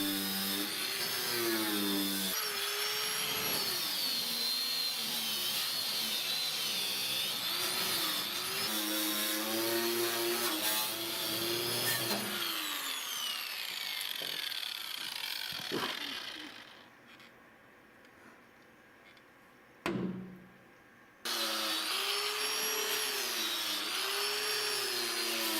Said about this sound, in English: wire wheel on an angle grinder and phosphoric acid